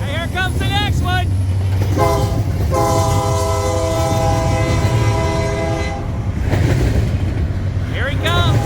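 A CSX freight train passes at night in pouring rain, its horn sounding in long repeated blasts over steady rumbling wheels and constant rain hiss, with a voice speaking briefly near the recorder.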